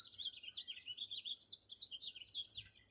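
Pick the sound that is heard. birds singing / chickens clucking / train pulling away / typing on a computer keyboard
birds singing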